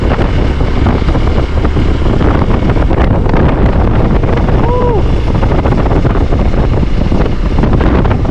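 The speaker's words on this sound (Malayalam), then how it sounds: "കാറ്റുണ്ട് അത്യാവശ്യം" Strong wind at Ponmudi hill station buffets the microphone in a loud, steady roar throughout, with only a brief faint chirp partway through.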